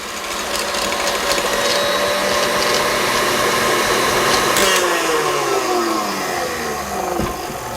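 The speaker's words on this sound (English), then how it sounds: "I'm going to whip this until it's stiff." An electric hand mixer whips cream until stiff for a pineapple meringue cake, a loud, continuous motor whine with whirring beater noise and slight shifts in pitch throughout.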